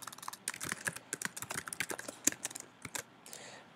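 Rapid clicking keystrokes on a computer keyboard, a steady patter of light taps with brief pauses, close and alone with no talking.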